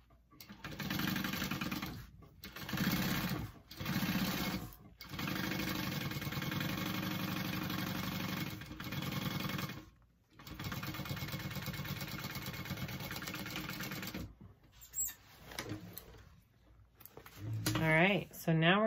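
A sewing machine topstitches a Beachcomber handbag in several bursts of steady motor whirring, separated by short pauses, with someone speaking between runs.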